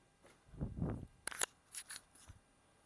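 Scissors trimming the fabric edges of a sewn kimono jacket: a soft rustle of cloth, then three quick, crisp snips, close and quiet, with no talk.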